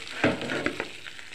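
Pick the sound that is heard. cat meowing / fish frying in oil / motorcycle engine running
fish frying in oil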